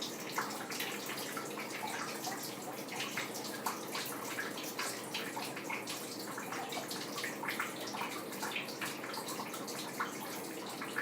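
Water splashes and trickles steadily into a turtle nesting box, a continuous close, hissing pour with faint drips and no voices.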